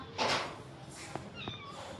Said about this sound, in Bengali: ম্যাও করতে হবে না